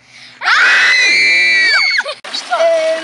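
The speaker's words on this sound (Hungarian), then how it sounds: "És azt kérem, hogy sikítsatok egy nagyot." A crowd of children at a summer camp lets out one long, loud, shrill group scream lasting about two seconds, then breaks into scattered voices and laughter.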